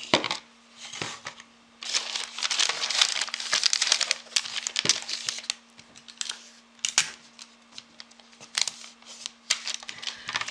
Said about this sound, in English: tape it down